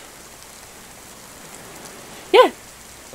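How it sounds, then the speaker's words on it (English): Soft, continuous rain patters in the survival game Oldowan, a low steady hiss with a short excited exclamation near the end. "It's raining, open your mouth."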